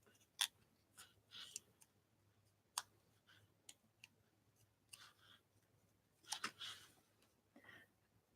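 Scissors trim a paper heart in quiet, scattered snips and clicks, several sharp cuts spaced irregularly, close and fairly soft.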